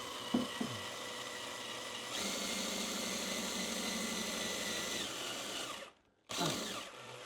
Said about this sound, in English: So Destiny, she's used the caramel wheel before, but only on getting mastic off.